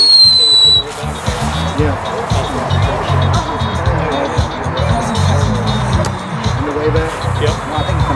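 A daytime Normandy Landing Craft firework goes off in the open, a sustained loud crackling and rumbling burst of small reports following a brief whistling tone at the start, with voices mixed in.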